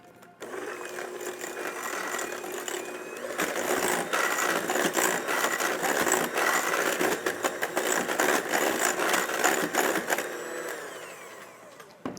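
An electric mixer beats an egg into creamed fat and sugar for muffin batter, its steady motor whine running loud and close for most of the stretch, with rattling of beaters against the bowl before it winds down.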